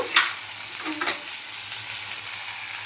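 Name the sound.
green chillies frying and being stirred in a pan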